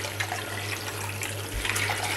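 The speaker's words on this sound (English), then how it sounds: "wash off all the soapiness, make them all nice again" Running tap water pours over Dalek toy figures as soap is rinsed off, a steady close splashing hiss with a low hum underneath, no talking.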